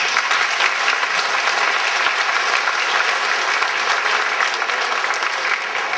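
Audience at a centennial all-school reunion program gives sustained applause for Mr. Iverson, a dense, steady wash of many hands clapping that holds at an even, fairly loud level throughout.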